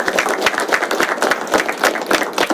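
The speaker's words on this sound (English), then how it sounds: "So a round of applause for Josh." Applause in a board meeting room honouring a high school baseball player, close and loud, with individual claps audible in a quick, uneven patter throughout.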